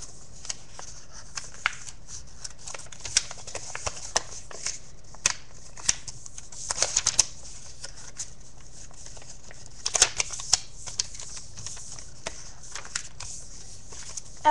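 Paper corners being folded in to the center while making a paper fortune teller: soft, sparse crinkles and sharp creasing taps, close and quiet, with no talking.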